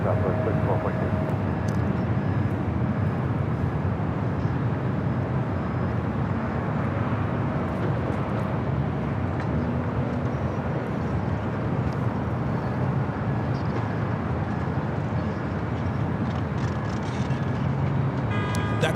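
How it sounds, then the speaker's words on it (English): A Southwest Airlines jet arriving at Los Angeles International Airport, a steady broadband engine roar sustained over the whole stretch with airport ambience, while a voice talks faintly underneath. "Next arrival is Southwest Airlines flight 3442 coming in from Vegas."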